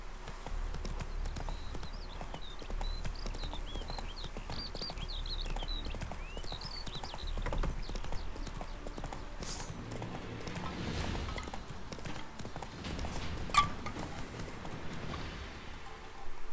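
Horse hooves clip-clopping in the video game The Witcher 3: Wild Hunt, a steady galloping rhythm of hoofbeats with faint birdsong, water and occasional ambient game sounds behind.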